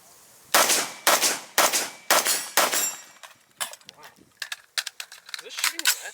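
Gunfire on an outdoor range during a modified Navy qualification course: five loud, evenly spaced shots open the sequence, followed by quieter, scattered sounds and voices talking.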